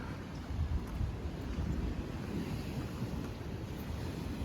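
Sea waves along the Cyprus coast wash in a steady broadband rush, with low rumbling surf and wind buffeting the microphone throughout, fairly loud and with no voices.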